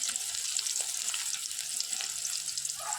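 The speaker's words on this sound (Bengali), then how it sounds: "পেঁয়াজটা একটু ভালো করে নেড়ে চেড়ে ভেজে নেওয়া হবে।" Onion sizzles in hot oil with a dried chilli and cumin tempering, a dense, even crackling hiss heard up close for a few seconds, with no talking.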